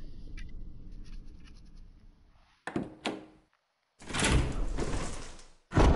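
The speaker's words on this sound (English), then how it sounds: "We're gonna go through this door." A door opens in the Resident Evil PS4 game: after low ambient rumble, a sharp creak and thunk, a brief hush, then a loud, grinding, sustained opening sound ending in another heavy thud.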